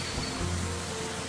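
Heavy rain falling steadily at Khadakwasla Dam, a dense, even hiss of drops with a faint low rumble underneath, no voices.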